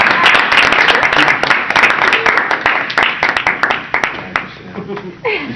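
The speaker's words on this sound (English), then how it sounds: "Well, everyone please give a round of applause for Keith Fox." Scattered hand clapping from an audience at a Toastmasters speech event, sharp uneven claps fading and thinning toward the end, with some voices mixed in.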